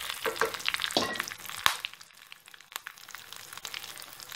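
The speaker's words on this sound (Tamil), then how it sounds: "கடுகு வடிக்க ஆரம்பிச்சிருச்சு பாருங்கள்" Mustard seeds spluttering in hot oil for a thuthuvalai leaf rasam, a faint bed of sizzle with scattered sharp pops and a few louder cracks, close and with no speech.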